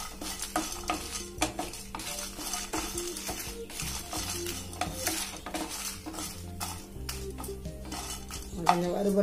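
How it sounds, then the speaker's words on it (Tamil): Chana dal and dried red chillies dry roasting in a pan for pirandai podi, with constant clinking and scraping of a metal spoon against the pan over a soft rattle of grains, close and busy throughout. "கடலப்பருப்போட மிளகாவும் போட்டிருக்கேன் பாருங்க, அதையும் சேர்த்து எல்லாம் ஒன்னா வறுத்துக்குவோம்"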